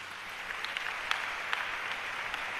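A church congregation breaks into brief applause during a sermon, a soft, even patter of many hands clapping at a distance.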